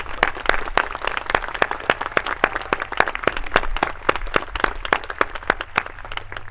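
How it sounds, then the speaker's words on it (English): Audience at a school opening convocation applauding newly inaugurated prefects, a steady run of sharp claps from a seated crowd, fairly close and continuous for the whole stretch. "One more round of applause for these prefects."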